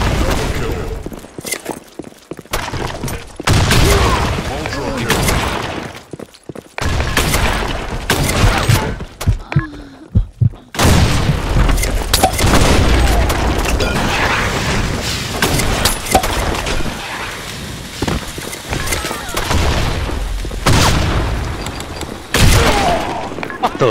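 Grenade blasts and gunfire in the shooter game Blackshot, loud bursts and booms crowding one another across most of the stretch, broken by a couple of short lulls, with a voice talking over them.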